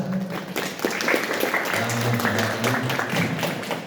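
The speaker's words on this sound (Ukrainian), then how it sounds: "Може, привітаємо оплесками?" Seminar attendees applaud to greet a teacher at a city council event. The clapping is moderate and continuous, and voices can be heard talking over it throughout.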